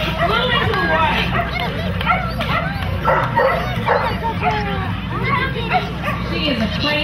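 Dogs barking repeatedly at a dock dogs jumping demonstration beside a pool, loud and frequent over a busy crowd babble and a commentator talking.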